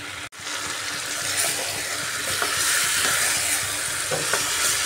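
Bottle gourd and chicken stir-fried in a pan give a close, steady sizzle with scraping stirring strokes. Faint watery sounds run throughout, and no one speaks.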